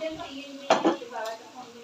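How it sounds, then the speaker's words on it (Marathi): Finely chopped onions stirred in a pan to brown for vegetable pulao, a faint sizzle under a couple of sharp spatula scrapes and clinks against the pan, with a low tonal hum throughout. "हे कांदे आपल्याला मस्त व्यवस्थित फिरवून घ्यायचे आहे थोडेसे ब्राऊन होईपर्यंत"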